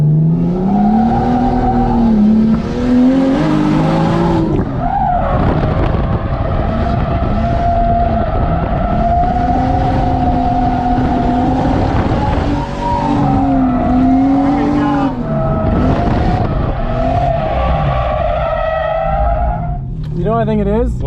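A 2020 Toyota Supra drifting, its tires squealing loudly in long wavering howls over a roaring engine, close and continuous for the whole stretch and cutting off near the end, with voices mixed in at times.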